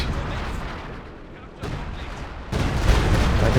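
Muffled booms from a mortar pit emplacement in the Company of Heroes 2 strategy game, a few dull thuds over a steady low battle rumble, each step raising the level.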